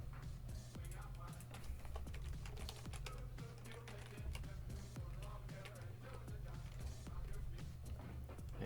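Rapid keystrokes on a computer keyboard, a quick irregular stream of light clicks and taps continuing throughout at close range.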